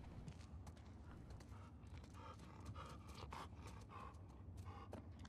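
A dog panting in the video game The Last of Us Part II, rapid rhythmic breaths repeating throughout, quiet and mixed with scuffling movement and ambient game sound.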